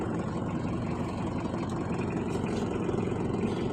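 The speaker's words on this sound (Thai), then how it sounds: "บรรยากาศตอนขี่รถนะพี่น้อง" Motorbike engine droning steadily while riding along a road to the town market, a constant low rumble with wind noise and no voices.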